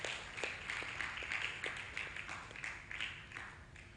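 An audience applauding at a schools' challenge event hosted by a college, steady moderate clapping from many hands throughout, heard at some distance with no voices.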